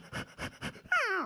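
A voice imitates a dog: several rhythmic panting barks followed by a rising and falling whine-like yelp, close and fairly loud, delivered as part of a comic mimicry routine.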